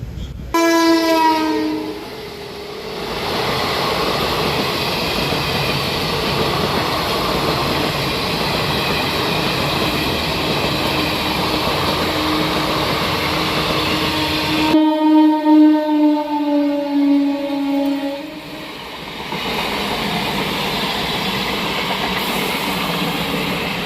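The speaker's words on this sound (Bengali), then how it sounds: "এই দেখো আমাদের ট্রেন ঢুকছে এখন দমদম জংশনে" A train pulls into Dum Dum Junction station with a loud, sustained horn at the start and a second long horn blast midway, over a steady rolling rumble of the railway cars.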